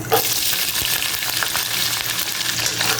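Chopped onion, garlic and split green chilies fry loudly in hot oil, a dense, steady sizzle with crackling that fills the whole stretch without a break.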